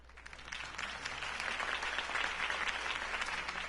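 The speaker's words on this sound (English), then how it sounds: "could have heard that applause" Steady, dense applause from a crowd in Batman: The Telltale Series, clapping at an even level throughout with a low hum underneath.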